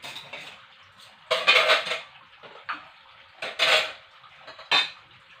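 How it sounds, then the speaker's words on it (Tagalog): Plates and dishes of the same size are stacked together in a kitchen, producing several sharp ceramic clatters and clinks in irregular bursts separated by quieter handling sounds. "pagsama-samahin na natin ngayon yung mga pinggan o yung mga pare-pareho ang laki"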